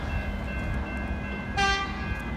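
A Metro train rumbles into Williamstown North station, then sounds a short, sharp horn blast partway through, close and fairly loud over the steady rolling noise.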